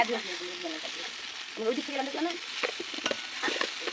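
Tomatoes fry in a pan, giving a steady sizzle broken by scraping stirs and clinks of a utensil against the pan, close and fairly loud, with voices murmuring faintly in the background.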